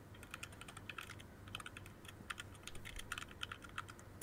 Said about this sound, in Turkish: Klavye şeyi geliyor.